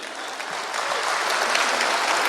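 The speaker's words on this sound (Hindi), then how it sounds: "थोड़ी सी तालियां बजा दीजिए।" An audience at a comic poetry gathering in Raipur breaks into steady, broad applause, a dense even wash of many hands heard from within the hall, with no talk over it.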